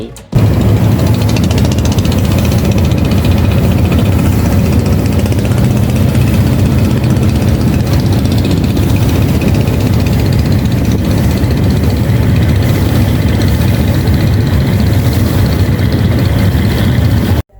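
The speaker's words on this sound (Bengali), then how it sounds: "এখন আমাদের এই লঞ্চটি নড়িয়া লঞ্চ ঘাট থেকে ছেড়ে দিয়েছে" A passenger launch leaves Naria launch ghat on the river, its engine droning in a loud, continuous low rumble with no breaks.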